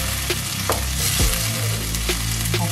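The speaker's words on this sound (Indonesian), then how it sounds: "Kita masukin daun jeruk sama serainya ya." Lime leaves and lemongrass hit a hot, sizzling pan and are stirred, with a loud continuous frying hiss and several sharp scrapes of a utensil against the pan.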